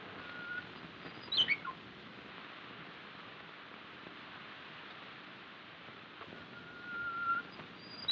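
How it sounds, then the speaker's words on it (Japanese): A Japanese bush warbler, or uguisu, sings in a few faint, distant whistled phrases over a steady hiss of background noise, with one brief rising note early and a softer call near the end. "ウグイスももうこれが聞き納めじゃの。"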